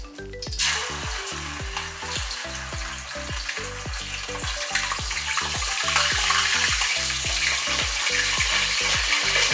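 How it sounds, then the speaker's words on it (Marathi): Ginger paste frying in about one and a half bowls of hot oil for a masoor curry, a loud continuous sizzle with steady bubbling crackle building over the whole stretch, close by and with no talking. "तेल गरम झाले की आले पेस्ट."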